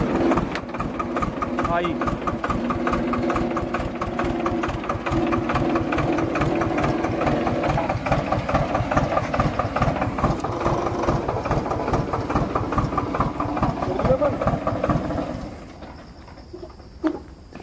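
A small Swaraj 4WD 25 hp tractor engine runs close by with a fast, steady diesel chug, loud and even, before easing down near the end; someone speaks briefly over it.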